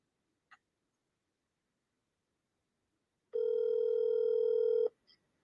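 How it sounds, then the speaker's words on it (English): A phone call being placed: after a tiny click, a steady loud electronic ringback tone sounds for about a second and a half, then cuts off, followed by brief clicks. "let's give old Trey a call here"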